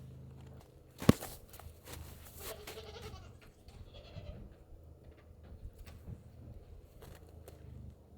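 Goats bleat faintly in a barn on an Alaskan homestead, with a sharp knock near the start and scattered shuffling and rustling sounds afterward as they chew on the wall.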